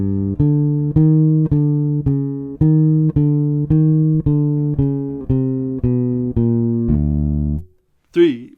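An upright-style walking bass line plays along to a blues track, a steady run of evenly spaced plucked notes in a clear, close tone, ending with a brief sliding sound.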